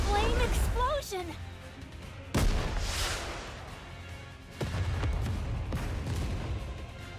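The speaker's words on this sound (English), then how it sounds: "Final flame explosion!" Flame explosions go off in the video game Goddess of Victory: NIKKE as sharp booming blasts and rumbling bursts amid game effects, with a person talking over much of the action.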